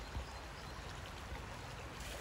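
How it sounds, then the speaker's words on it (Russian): Steady babbling of running water, a continuous close wash of bubbling and trickling with no voices. "Вы просто послушайте это журчание воды."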